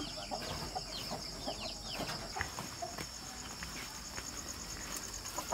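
Chickens on a backyard farm cluck and squawk as they are caught, the calls scattered and moderately close, with crickets and outdoor ambience steady underneath.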